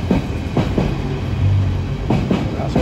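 A freight train rolls past Syston station, a close, loud rumble with rhythmic clickety-clack of wagon wheels over rail joints every half second or so and a low hum underneath.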